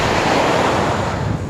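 Ocean surf rolls in steadily at Shangumugham Beach in Trivandrum, a loud, continuous wash of breaking waves with wind rushing across the microphone throughout.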